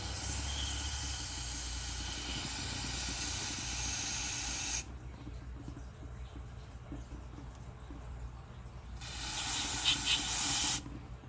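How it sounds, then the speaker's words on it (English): A spray can hisses in a long continuous burst into a Lexus engine spark plug well, stops, then after a pause gives a second shorter spray, close and fairly loud. "I'm going to spray in here"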